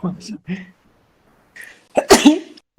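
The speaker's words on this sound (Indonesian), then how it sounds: "Itu bukan bersin corona ya guys, itu bersin hidung gatel." A single sharp sneeze bursts out near the end, preceded by a few short voiced sounds and a pause of near silence.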